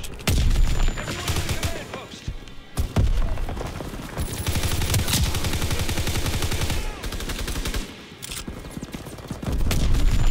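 In Call of Duty WW2 gameplay, gunfire rattles amid booming blasts including a grenade explosion, with loud continuous fusillade and sharp bursts and brief lulls.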